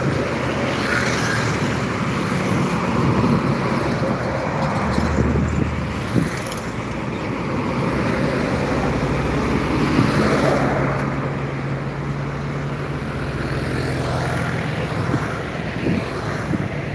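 A convoy of trucks passes along the Jalan Lintas Timur highway in Palembang, giving a long continuous roar of heavy engines and road noise that swells and eases slightly as vehicles go by, with no speech.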